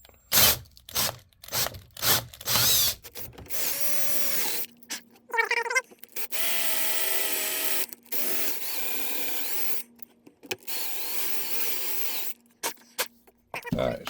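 Power drill run in reverse, rocked back and forth while boring holes into wood. Several bursts of whirring with short pauses between them, fairly close and loud.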